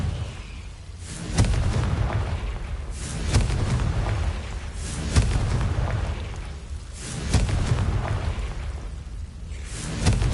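Confringo blasting-spell explosions in a Hogwarts video game: about five heavy, rumbling booms with whooshing tails, repeating roughly every two seconds at close, loud range.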